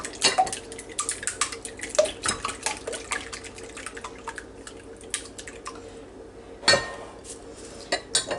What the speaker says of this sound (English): You get 4 eggs in here, and let's just get them broke up a little bit.